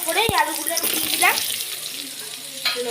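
Diced potatoes drop into onions already frying in a wok, hissing and sizzling, with scraping stir sounds and a voice talking over them.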